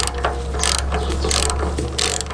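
A ratchet with a size 10 socket loosens a bolt on a Vstrom 800 motorcycle, making loud, close clicking pawl bursts in several quick rhythmic pulls with no voices.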